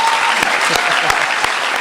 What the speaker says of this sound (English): let's give her some good applause